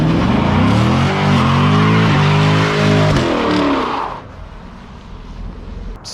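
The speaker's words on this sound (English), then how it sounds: "Burnouts, no problem." Loud, sustained engine roar and tire squeal from a 2020 Chevrolet Camaro LT1 doing a burnout, holding for about four seconds before cutting off to quieter idle and ambient noise.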